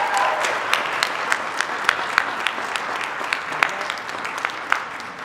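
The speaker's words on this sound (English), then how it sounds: "let's give a final round of applause for our Fall 22 Care Award recipients" At an awards ceremony, an audience claps for the Care Award recipients, a dense steady patter with sharper individual claps standing out, moderately loud and without speech.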